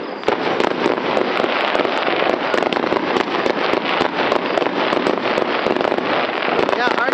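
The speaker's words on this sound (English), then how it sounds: "home fireworks" Grand finale of a home fireworks display: a dense, continuous barrage of loud crackling bursts and pops, with people's voices mixed in.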